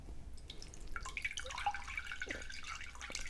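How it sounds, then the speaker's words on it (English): Water drains out of the bottom of a taller pot of soil, giving a quiet, continuous trickle with scattered small drips throughout. "See how the water is draining out?"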